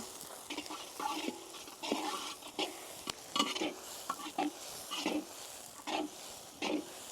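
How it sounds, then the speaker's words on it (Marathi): Onions with curry leaves sauté in a pan for spicy Maharashtrian dhaba-style sev bhaji, a steady sizzle broken by repeated rhythmic scrapes and stirs of the spoon, close and moderately loud. "बारीक शरीराला कांदा घालून घेऊ कांदा व्यवस्थित परतून घेऊ हलका कलर चेंज होतोपर्यंत"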